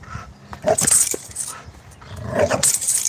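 A dog growling and barking while doing a workout, with loud bursts of barking and snarling close by, some whimpering in between, and a person talking over parts of it.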